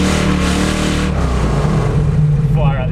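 A race car engine revs loud and close at the Bathurst 1000, a dense roaring drone with voices talking over it toward the end.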